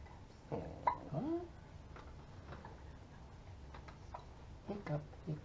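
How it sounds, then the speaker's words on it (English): A little girl hiccups a few times, faint and close in a quiet room, with soft babbling and an adult voice nearby. "Oh my goodness, I give her hiccups."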